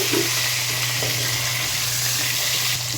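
Potatoes fry in a pan for a Bengali chicken, potato and pointed gourd curry, giving a steady, close, even sizzle without pause.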